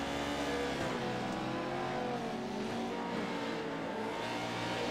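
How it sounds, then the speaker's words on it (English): A Pro 2 Lite race car in the iRacing sim racing game revs hard behind on the Charlotte rally course, a steady loud engine drone with rising and falling pitch sweeps and no talk. "I hear him back there, revving up, trying to catch back up to him."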